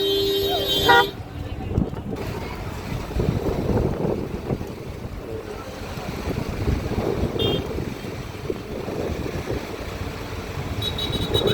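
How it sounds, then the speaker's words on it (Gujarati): Heavy, congested road traffic rumbles steadily, with a few short horn toots and wind buffeting the microphone; no clear speech. "એટલો ફૂલ ટ્રાફિક થઈ ગયો કે જગ્યા નથી હાલવાની કોઈ જાતની"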